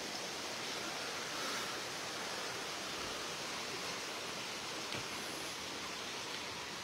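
Flowing water from a stream or waterfall rushes in a steady, dense broadband hiss, constant and unbroken, with no voices.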